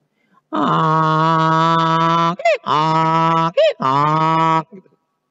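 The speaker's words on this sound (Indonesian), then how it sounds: "Saya pernah putar salah satu YouTube yang isinya suara keledai, itu jelek banget." A donkey brays loudly and close, played back from a recording. There is one long harsh honk followed by two shorter gasping, see-sawing brays.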